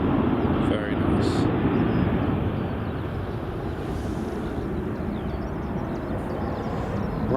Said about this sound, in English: Very nice, silky smooth Ryanair departure.